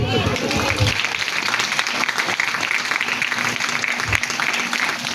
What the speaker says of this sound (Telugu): గట్టిగా ఒక్క నిమిషం ఆపుకుని చప్పట్లు కొట్టండి.